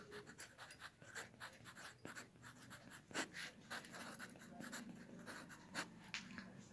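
Chalk or marker writes a word on a classroom board, a faint run of quick scratchy strokes and taps in an uneven rhythm, close and quiet with no speech.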